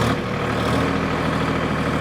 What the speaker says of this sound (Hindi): 1500 आरपीएम पे आप ट्रैक्टर का आवाज़ सुन रहे होंगे।